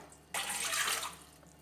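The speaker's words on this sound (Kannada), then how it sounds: "4 ಲೋಟ ನೀರು ಪಾಡ್ಗ." Water poured into a kadai for egg soup, a close, steady splashing pour of about a second that starts abruptly and tapers off, with no talking.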